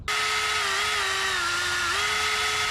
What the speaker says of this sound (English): I'm gonna go ahead and drill the first hole